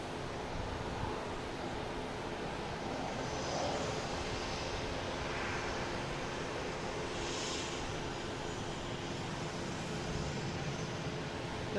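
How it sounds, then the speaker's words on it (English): An American Airlines Airbus A319 landing at Boston Logan on a flight in from Reagan gives a steady, moderately distant jet roar that holds evenly throughout, with no voices. "Next landing is American A319 coming in from Reagan."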